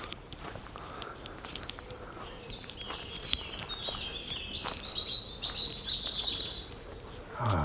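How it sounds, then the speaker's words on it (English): Birds sing and chirp outdoors in a garden where cuckoos and pigeons are present, bright warbling phrases rising over scattered footsteps and light rustling, growing fuller toward the end. "Ah, a lovely bird song."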